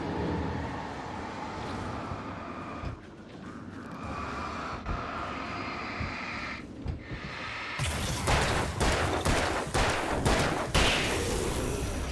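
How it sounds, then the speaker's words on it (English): Gunfire and combat rumble from the video game Alan Wake form a dense, continuous wash with scattered shot impacts, growing louder and harsher over the last few seconds. "Using a gun from that close up."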